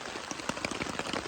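Steady rain falls on river flats during a deer hunt, a dense even patter with scattered nearby drops landing on a surface, continuous and fairly soft, with no voices.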